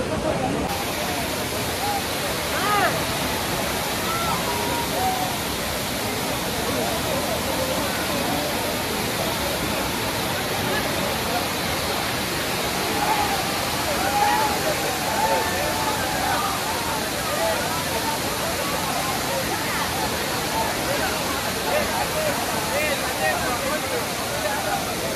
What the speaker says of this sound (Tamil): அப்படியே ஆகாயத்துலேருந்து வானத்துலேருந்து தண்ணி விழுகிற மாதிரி இருக்குது.